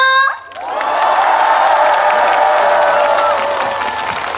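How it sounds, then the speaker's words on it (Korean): Crowd applause and cheering at the opening ceremony of the 2024 Chuncheon makguksu and dakgalbi festival; after a brief lull a loud burst of clapping, shouts and whoops swells and holds steady, a large outdoor audience. "다같이 박수와 함성 질러볼까요"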